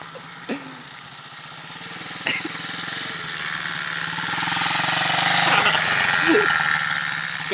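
A dirt bike engine revs and idles close by, its pitch rising and swelling toward the end, with a couple of short mechanical clicks early on and a voice faintly under it.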